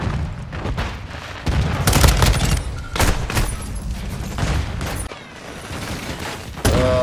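Rapid bursts of shotgun fire in the video game Modern Warfare 2, loud and close, with repeated booming blasts and dense gunfire packed across the whole stretch and no talk over it.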